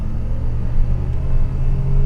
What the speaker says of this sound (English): the motor just revs right up to 7 grand, and it pulls and it pulls and it pulls